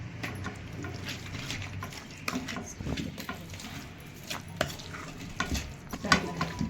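Green chilies tempering in hot oil in a pan for a Marathi ambat chuka bhaji, with a close, continuous sizzle and repeated scraping stir strokes, faint scattered clinks, and no voices.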